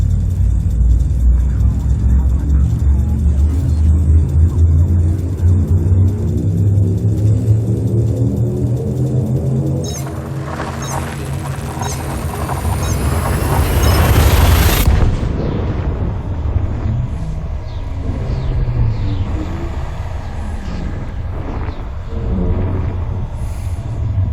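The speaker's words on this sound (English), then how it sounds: "Frameshift drive charging." Frame shift drive of a ship in Elite Dangerous charges with a deep droning rumble that climbs in pitch, then builds to a bright, loud roaring surge as the jump fires, and settles into a lower hum.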